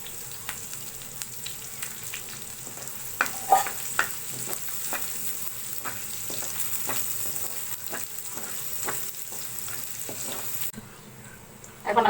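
Onions frying in oil with whole cardamom, cinnamon, bay leaf and cloves: a continuous close sizzle with repeated spoon clicks and stirring scrapes throughout, easing slightly near the end.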